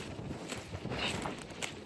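Steady, rushing wind buffets the microphone in a constant broadband roar, fairly faint overall, with no voices.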